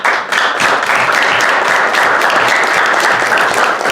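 A summit audience in Washington, DC gives loud, close, sustained applause, a thick, unbroken wash of clapping that holds steady for the full four seconds.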